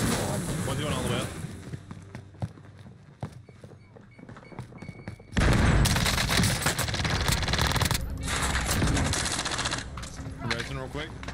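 Rapid automatic gunfire in a video game, with dense repeated bursts and a heavier, louder stretch of shooting midway, mixed with scattered game effects while a player talks over it.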